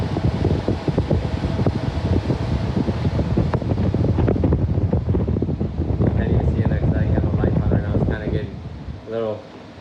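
A repaired swamp cooler blows air in a steady, fluttering fan roar with gusty wind buffeting on the microphone, close and continuous, with a brief voice-like murmur near the end.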